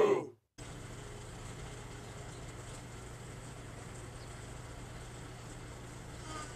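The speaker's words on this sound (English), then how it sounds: "we have an attic fan in our home, so we have that on right now, blowing wind through the windows" An attic fan runs indoors in a home, pulling air through open windows: a steady, even whoosh with a low hum, constant and moderately quiet after a brief moment of silence at the start.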